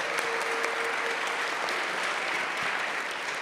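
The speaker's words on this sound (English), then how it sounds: "Let's give them a round of applause for all their knowledge." Steady applause from an audience at an evening creators' event, dense clapping holding level for several seconds with no talk over it.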